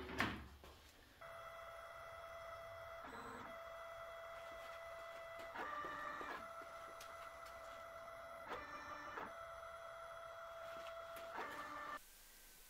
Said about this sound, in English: I disassembled an old 3D printer and built this.